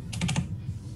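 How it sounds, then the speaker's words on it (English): Loud typing on a computer keyboard, a quick cluster of four or five sharp key clicks close to the microphone, followed by a low hum. "whoever's typing, that's very loud, by the way"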